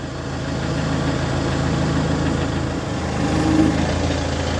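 A tractor engine runs steadily at a low idle, close and continuous, with a brief dip in the rumble partway through before it settles back to the same even drone.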